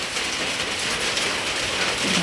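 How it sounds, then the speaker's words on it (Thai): Steady rain hisses evenly throughout, a dense wash of drops falling with no pauses and no voices. "มาอีกแล้วฝนพาอากาศมาอีกเลย"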